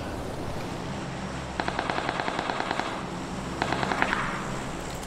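Suppressive gunfire in a shooter video game: two rapid automatic bursts of evenly spaced shots, the second shorter, over a constant background game ambience.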